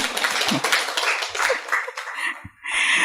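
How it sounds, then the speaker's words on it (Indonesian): Audience at an Indonesian health promotion workshop on digital media claps together for a few seconds, a fairly close burst of applause that thins out near the end. "Coba dikasih aplaus sekali lagi."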